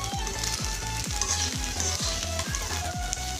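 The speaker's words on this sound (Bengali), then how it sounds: "একটু এখন হালকা হাতে আস্তে আস্তে ভেজে নিতে হবে। এই চালটা ভাজা যত সুন্দর হবে তত কিন্তু আপনার পোলাওটাও ভালো হবে।" Rice being fried in a pan for basanti pulao gives a steady, close sizzle, with a regular rhythmic scraping of stirring repeated about every third of a second.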